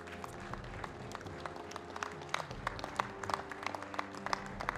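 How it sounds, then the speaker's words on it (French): Scattered applause from spectators at a Blonde d'Aquitaine cattle show, honouring two breeders; fairly faint and distant clapping with uneven individual claps over a low background hum. "Je vous demande de les applaudir"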